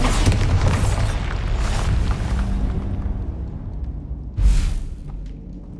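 A Bombarda spell explosion in Hogwarts Legacy, a single heavy boom bursting out near the end over a steady rumbling game backdrop, preceded by a busy mix of earlier spell effects.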